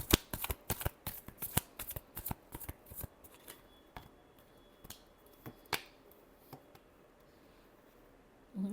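Tarot cards are shuffled by hand at close range. A rapid run of crisp riffling snaps comes first, then the slaps thin out into scattered softer taps, with no voices over them.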